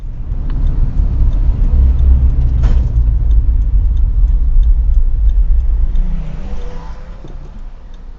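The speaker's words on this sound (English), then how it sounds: "My engine just stalled out in the middle of the freaking thing." A van's engine, recently swapped, rumbles low and rough while idling, then sags and dies out as it stalls, leaving the deep drone weakening toward the end.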